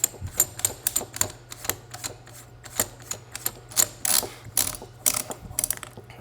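A wrench ratcheting a nut down on a Typhoon F12 shotgun barrel, a dozen or so crisp metallic clicks in irregular bursts, close and fairly quiet with no talk.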